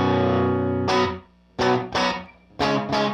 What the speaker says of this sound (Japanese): 残響反響してるみたいな感じ。